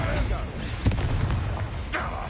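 A Confringo fire spell blasting in Hogwarts Legacy, a mid-loud burst with a short boom among rumbling combat noise and a second whooshing impact near the end.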